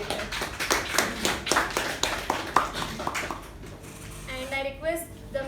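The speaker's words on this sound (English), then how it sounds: "let us give a huge round of applause for the speaker and the evaluator" Brief round of applause for a speaker and evaluator at a club meeting, a cluster of close, sharp claps over the first few seconds that thins out into quieter background sounds.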